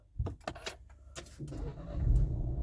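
A Nissan X-Trail engine cranks and catches after a new battery is fitted: a few clicks and knocks first, then the motor rumbles to life and settles into a steady idle, nearby.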